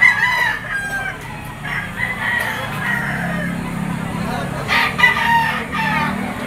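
Roosters crow and hens cluck at a crowded poultry auction market in Lipa, Batangas, several birds calling close by in overlapping bursts over a busy background murmur.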